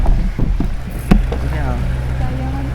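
A large hired boat in Cebu moving on open water, its steady low engine rumble and wind buffeting heard close, with a few brief knocks and faint voices underneath.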